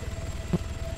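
Helicopter rotor chopping in ArmA 3 gameplay, a steady low rhythmic thump running throughout at moderate distance, with no talk over it.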